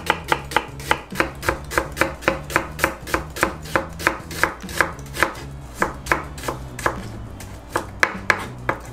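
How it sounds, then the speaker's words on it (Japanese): A kitchen knife chops onion on a cutting board in about twenty crisp, evenly spaced strokes, loud and close, steady throughout, with no voices. "次玉ねぎを切っていきます"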